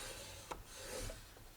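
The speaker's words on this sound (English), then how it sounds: "I'm going to score that one more time just like I did on the front." Paper being scored with a scoreboard tool for a mini album, a single short scraping stroke over quiet room background, with faint rubbing afterward.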